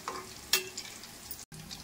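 Boondi droplets for motichoor laddu fry in hot oil with a faint, soft sizzle, marked by a couple of brief scraping stirs and a short cut in the sound.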